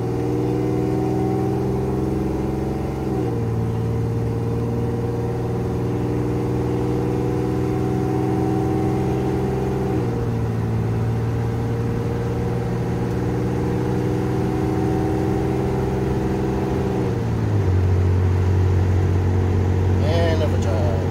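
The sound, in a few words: 1987 Chevrolet Celebrity Eurosport 2.8 V6 driving, transmission slipping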